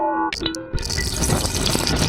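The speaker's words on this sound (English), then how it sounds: "So I just got to add the water to the 1 gallon" Water gushes into a 1-gallon plastic sprayer jug on a workbench, a brief close pour that starts after a few clinks and keeps running with a bright splashing hiss.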